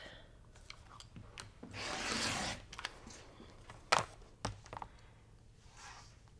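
A rotary cutter slices a 6.5 inch quilting fabric strip along a Creative Grids ruler. It makes one smooth, close rubbing pass of about a second, followed by a few light taps and handling noises.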